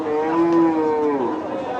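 A large crossbred cow lows once at a cattle market, a single long, loud, close moo that falls in pitch at the end.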